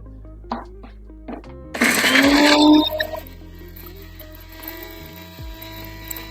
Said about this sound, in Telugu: మిక్సీ పొడి చేసుకుంటున్నాను